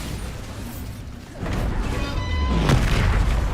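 The Bombarda blasting spell in Hogwarts Legacy goes off as a deep, heavy boom that swells and rumbles for a couple of seconds.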